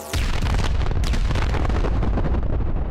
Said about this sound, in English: loud explosions are loud